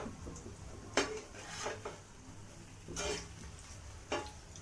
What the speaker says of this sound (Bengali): সবগুলো এইভাবে আমি উল্টে দেবো